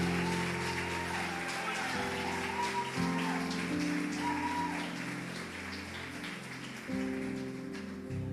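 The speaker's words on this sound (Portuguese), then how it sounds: "Pode aplaudir mais forte." A church congregation claps steadily for a pastor, a dense, sustained wash of applause filling the room, with sustained keyboard chords playing underneath.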